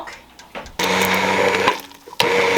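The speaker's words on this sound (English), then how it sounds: "I'm gonna get my immersion blender and we're gonna blend this all up" An immersion blender whirs loudly through soup in two sustained bursts, the motor buzzing steadily with a brief pause between runs and some handling noise at the start.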